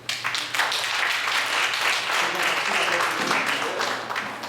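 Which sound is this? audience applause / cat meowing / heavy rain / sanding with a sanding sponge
audience applause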